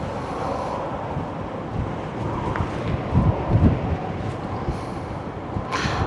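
Wind at the Westerschelde waterfront in the Netherlands buffets the microphone in a steady, loud roar, broken by a few stronger gusts and soft rumbles, with no one speaking.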